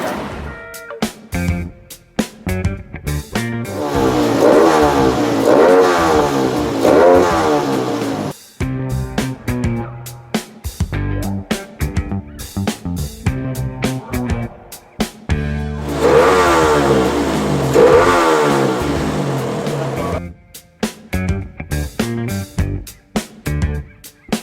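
Kawasaki KLX motorcycle engine being revved during carburetor tuning, rising in repeated loud throttle blips and two long sustained high revs that drop back to a rough idle in between.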